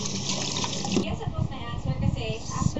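Tap water runs steadily into a kitchen sink during washing up, a continuous splashing wash with dish clatter, under ongoing nearby talk.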